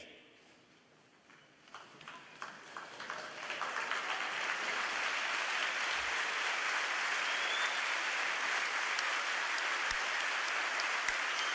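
Audience applause at a St. Marys Memorial High School commencement honouring graduates' parents, starting as scattered claps and swelling within a few seconds into sustained, dense clapping from a large crowd that carries on steadily.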